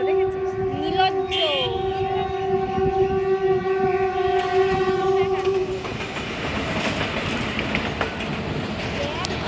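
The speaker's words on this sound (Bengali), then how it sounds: "একটা ইঞ্জিন গেল, আমি ভাবলাম পুরো ট্রেনটা যাবে না" A railway engine passes close by, a loud steady rumble with a strong sustained horn tone in the first half, then a broadband roar of the passing locomotive continuing to the end; voices can be heard faintly underneath.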